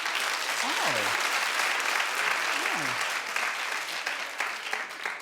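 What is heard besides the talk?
talk show studio audience clapping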